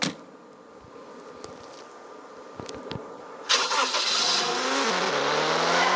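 In a GTA-like video game, a car engine cranks and catches midway through, then revs and climbs steadily in pitch and loudness after a few faint clicks in a quiet stretch.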